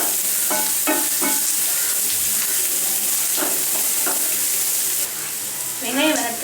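Green chillies and chopped onion sizzle and fry in a pan, a steady loud hiss with occasional stirring scrapes throughout.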